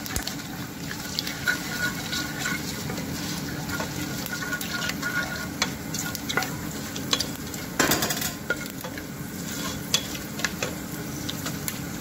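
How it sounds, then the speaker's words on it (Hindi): Whole spices crackle and sizzle in hot oil for a Punjabi-style kadhi pakoda, with steady frying hiss, scattered small pops and stirring scrapes throughout, close and moderately loud with no talking. "ये हल्के से क्रैकर होने लग गए हैं।"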